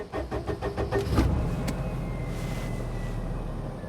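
A small Perodua Kenari car engine cranks with rapid rhythmic chugs, catches with a sharp burst, then settles into a low steady idle.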